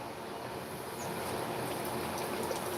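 A steady, fairly faint rush of water flowing from a stream setup, a continuous even wash with no distinct splashes and no talking.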